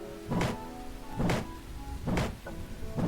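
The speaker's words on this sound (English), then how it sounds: "especially considering it's raining" Rain falls steadily in the farming video game Immortal Life, with a soft background hiss broken by three or four louder rolling bursts that sound like distant thunder.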